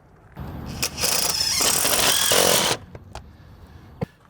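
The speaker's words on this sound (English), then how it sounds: "So now I'm going to attach my panel. We are using a 1 inch standard 8-point screw," A power driver runs a 1-inch standard screw through a metal board-and-batten siding panel into wood, a loud whirring burst lasting about two seconds, followed by a few faint clicks and taps.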